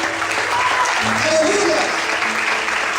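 A church congregation applauds during a worship service, a steady wash of clapping with faint voices and tonal murmurs mixed underneath, holding at moderate loudness throughout.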